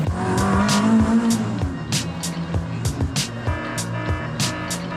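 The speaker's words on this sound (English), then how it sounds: "Oh, we had a misfire." An old banger of a car running rough, its engine note stumbling with repeated uneven pops and bursts, loud and close, with a short rising whine early on and no talk.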